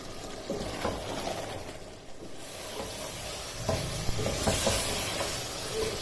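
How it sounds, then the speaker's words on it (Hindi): Chicken and cauliflower pieces fry in a pan over a high flame, giving a steady soft sizzle with intermittent stirring scrapes and clatters, heard close and moderately quiet with no talking. "अब फ्लेम को तेज़ कर लेना है और इसे भून लेना है"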